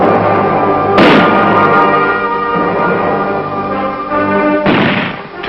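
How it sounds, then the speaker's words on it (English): Army Reserve mortar units fire a training barrage, heavy booming blasts ringing out in a loud sequence with sharp reports near the start and end and a long resonant rumble between. "Mortar units learn to drive into position and set up their weapons rapidly to lay down a barrage of fire."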